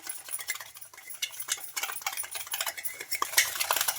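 A spoon stirs sugar and yeast in a bowl for bun dough, clinking and scraping against the sides in quick, repeated close strokes with no voices.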